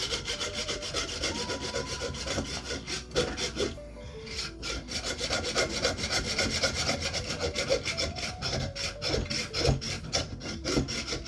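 A hand saw cutting through a chunk of cow bone for needle-making, a continuous dense rasping of rapid back-and-forth strokes, close and loud, with a brief pause near the middle, no voices.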